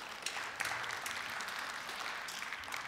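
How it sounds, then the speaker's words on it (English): A church congregation claps during a Sunday worship service, a short burst of soft, scattered applause at some distance. "They're clapping"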